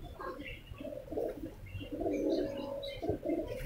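An ice-coloured female pigeon in a loft coos in soft, low, repeated rolling phrases, close by, with faint background noise and a brief knock at the very end.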